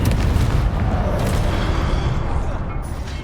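A Confringo spell explosion in Hogwarts Legacy, a loud broad booming blast that rolls and decays over a few seconds, dense and unbroken.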